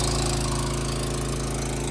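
An engine powering a water pressure pump machine runs close and loud, a steady idling hum with a regular throbbing pulse and no talk over it.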